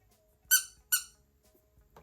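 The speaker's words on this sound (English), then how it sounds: "came home yesterday with a bunch of squeaky toy rubber duckies" Two sharp squeaks from a small rubber ducky squeeze toy, evenly spaced and close up, each rising quickly and tailing off, with a quiet room and faint background noise between them.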